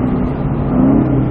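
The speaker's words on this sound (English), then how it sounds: "downshift" Right after a downshift on a race track, the Ford Mustang Shelby GT engine keeps up a brief, loud, close rumbling drone.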